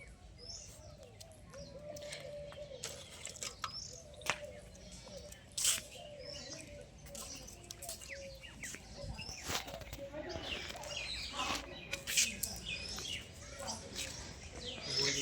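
Pigeons and parrots gather in the morning sun, with faint, scattered chirps and repeated soft cooing over a low background hum, while voices talk nearby.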